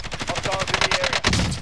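Rapid automatic gunfire from the video game Call of Duty Modern Warfare rattles in a dense burst of repeated shots, loud and close, with a short pause before a final volley.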